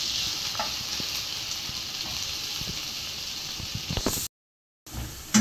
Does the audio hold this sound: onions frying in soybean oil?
yes